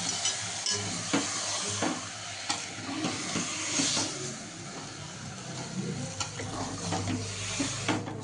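Liver sizzling in a frying pan while being stirred, a steady hot hiss of frying with repeated scraping and clinking of the spoon against the pan, close and continuous.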